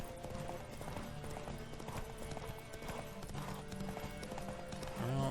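Horse hooves pound in a steady galloping clip-clop in The Witcher 3, set under continuous music and game ambience with an occasional faint whinny.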